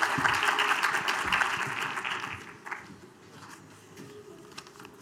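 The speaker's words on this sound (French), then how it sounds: "Je vous invite à applaudir Jean-François Salard, qui est le conseiller départemental en char" Audience at a departmental council health evening applauds a speaker, a dense burst of clapping that fades to scattered claps after a few seconds.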